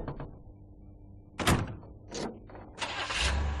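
Car in the mob action game Made Man: a door thunks shut, then more clunks and an engine turning over and rising into a low running rumble, fairly close, with no talk.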